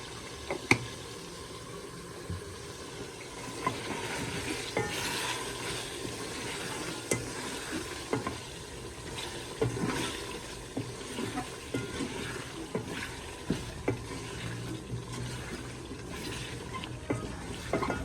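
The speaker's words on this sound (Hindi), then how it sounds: "अब अच्छी तरह बुनाई करेंगे।" Chicken and potato pieces stirred and sautéed in a pot with chili, salt and turmeric for palak gosht, giving a steady sizzle with scraping spoon strokes and soft clacks throughout, close by.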